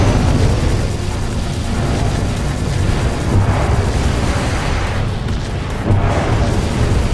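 Dense, continuous rumbling barrage of booms as artillery batteries fire during a space battle, loud and unbroken with rolling low-end blasts and no clear gaps.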